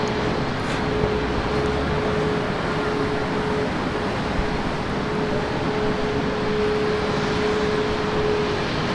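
A Singapore Airlines airliner arrives at a busy airport in early morning, its engines producing a steady broad roar with a sustained tonal whine, moderately loud and unbroken across the whole stretch.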